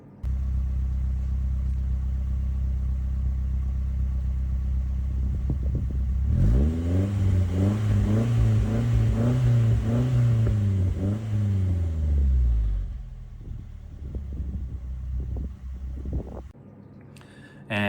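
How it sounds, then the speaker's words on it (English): A naturally aspirated Nissan S13 engine with stock manifold, stock cat and a Velside catback exhaust idles steadily, then revs up and holds high for several seconds before dropping back to a low rumbling idle, close and loud. "So with the stock manifold, stock cat, and the Velside catback, it sounds perfect."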